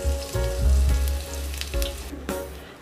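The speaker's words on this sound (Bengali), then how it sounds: "হাফ টিস্পুন হিং দিয়ে দিলাম," Half a teaspoon of asafoetida hits hot white oil in a heated kadai, bursting into a loud close sizzle that crackles and fades over a few seconds, with no voice.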